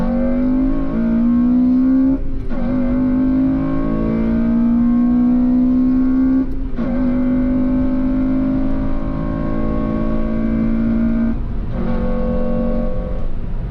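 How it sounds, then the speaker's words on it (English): A deep sapphire blue Honda Civic FN2 Type R with an HKS induction kit revs hard through repeated acceleration runs, its engine note climbing steadily and breaking off briefly at gear changes, loud and close. "it's got a HKS induction kit, which absolutely transforms the way the car sounds when you're accelerating."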